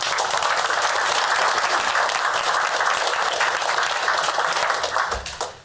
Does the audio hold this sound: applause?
yes